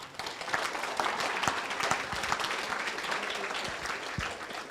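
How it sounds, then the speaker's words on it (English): Audience at the NVMC Annual Dinner 2022 applauding: steady, fairly faint clapping from a crowd, sustained throughout with no voice over it. "A big round of applause to all of you."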